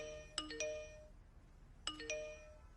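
Two short bright chime notification tones from a mobile phone just switched on with a new SIM card, each a quick rising pair of notes with a ringing tail, spaced about a second and a half apart, alone in a quiet room.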